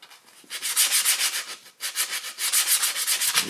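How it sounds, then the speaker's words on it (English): Old flat paint is scraped and rubbed off the body of a John Deere 755 compact tractor in rapid back-and-forth scratching strokes, close up and fairly loud, in two bursts separated by a brief pause. "Previous painter had applied some flat, you can feel it here, some sort of a paint on it. Scratch it off."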